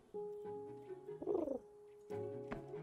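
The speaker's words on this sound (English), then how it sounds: "You can chat with the bird. It sounds like a pigeon." Soft pigeon cooing from a bird in the video game Project Grove, a few tonal, warbling calls heard alone against a quiet, faintly humming game backdrop.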